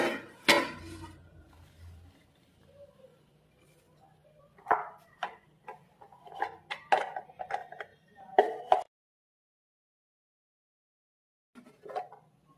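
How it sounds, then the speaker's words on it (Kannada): A knife finely chops cabbage for veg momos on a board, with sharp, irregular taps in quick clusters, then a pause and a few more cuts, with no talk. "ಇದರಲ್ಲಿ ಸ್ವಲ್ಪ ಸ್ವಲ್ಪ ಹಾಕಿ ನೀಟಾಗಿ ಸಣ್ಣದಾಗಿ ಕಟ್ ಮಾಡ್ಕೋಬೇಕು"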